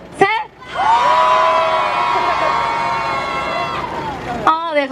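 An outdoor crowd at a weekly Wednesday protest rally over Japanese military sexual slavery shouts and cheers in one loud, sustained roar with whoops, rising after a short voice at the start and fading near the end, when voices return.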